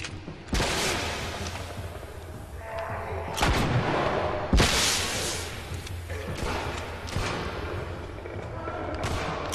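Gunfire in the video game The Last of Us: a handful of sharp, loud gunshots spaced irregularly over a continuous rumbling background, each crack with a short echoing tail in a tunnel setting.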